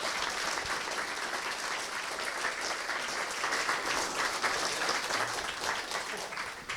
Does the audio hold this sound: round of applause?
yes